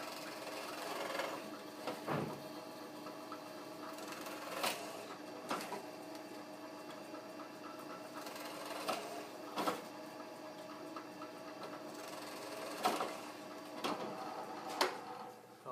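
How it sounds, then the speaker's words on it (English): A drill press bores holes through wood for a school photo-frame project, giving a steady whirring hum broken by regular sharp knocks and clicks as each hole is cut, close and fairly quiet. "All I'm going to do is turn it on, hold it down firmly onto the bed and drill through."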